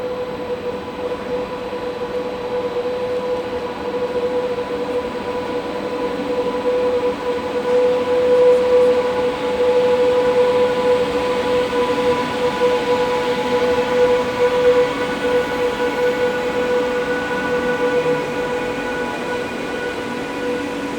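Swiss train units 500 016 and 039 running through the Olten area on a Central Bahn main line service bound for Geneva, a steady loud rumble with sustained tonal whine that swells slightly mid-way and holds, no voices.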